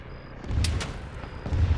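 Gunfire in the Arma 3 military shooter, a couple of muffled shots or impacts landing near the player amid low rumbling ambience, fairly quiet and brief.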